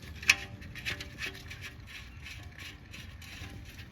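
A ratchet clicks as the oil drain plug goes back into a Mitsubishi Outlander during an oil change, a sharp tap followed by a series of quick soft ratcheting clicks, close and fairly quiet.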